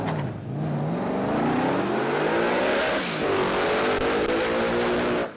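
A drag race car at Palmyra Raceway accelerates hard down the strip, a loud rising engine roar climbing through the gears with a brief dip at a shift, close and continuous.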